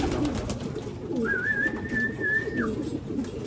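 In a pigeon breeder's loft, a pigeon gives a drawn-out, wavering coo over a dense, steady background of many other birds murmuring and cooing nearby.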